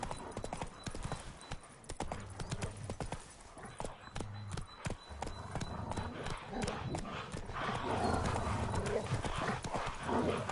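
Steady clip-clop of horse hooves trotting along in The Witcher 3: Wild Hunt, loud and continuous, with a voice talking over parts of it and a brief whinny.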